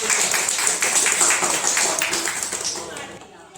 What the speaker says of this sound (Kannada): ಸೊ ಅವಳಿಗೆ ಪ್ರಿಯಾಂಕನಾ ನಂದಿ ತಗೊಂಡು ಚಪ್ಪಾಳೆ ಹೊಡಿರಿ ಎಲ್ರು